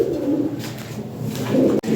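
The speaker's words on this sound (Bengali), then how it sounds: "ব্রিডিং করছে কবুতরটা, অনেক সুন্দর কবুতর" Breeding pigeons cooing in a loft, low throaty rolling coos repeating steadily and up close, over a dense murmur of other birds.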